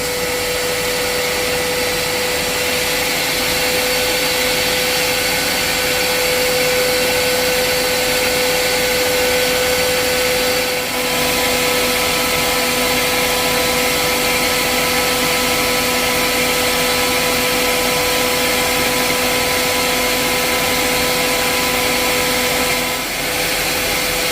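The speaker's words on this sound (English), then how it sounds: "I'm going to put my little extractor going as well." A small smoke extractor runs in a workshop alongside a Creality Falcon 2 22W laser engraver, giving a loud, steady broadband whoosh with a constant whine throughout, briefly dipping once midway.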